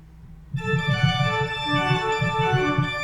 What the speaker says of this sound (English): to feature echoes between the manuals in many of the improvisatory sections